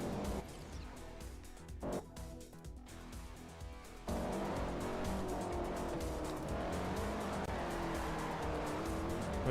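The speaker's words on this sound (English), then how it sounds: "The car is understeering so bad." A race car understeers in Forza Motorsport 4, its engine droning loudly while the tires scrub and squeal. The sound is continuous and builds sharply partway through. There is no talk.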